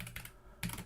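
Typing on a UK-layout computer keyboard, a few quick clustered keystrokes, then a pause and another short burst of clicks, close and fairly quiet.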